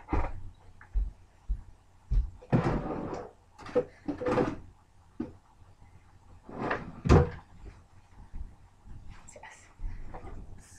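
Drawers in a makeup storage unit slide open and shut, producing a string of close wooden thumps, knocks and scraping slides at irregular intervals, with occasional small rattles between them.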